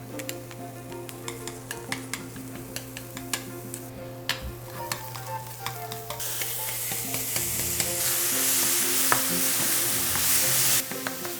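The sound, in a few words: mushrooms stir-frying in a preheated pan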